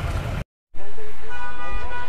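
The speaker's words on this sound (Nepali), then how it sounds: "अनि अननेसेसरी हर्नहरू बजिरहेको छ" Vehicle horns toot amid car and bus traffic at a busy junction in Pokhara, Nepal, heard after a brief gap of silence, with a continuous rumble of engines and a person talking over it.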